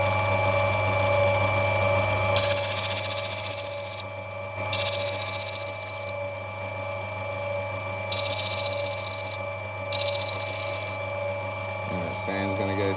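Power sanding opal stone during carving, a loud abrasive whirr in four bursts of a second or two each, separated by pauses that leave a steady machine hum running underneath.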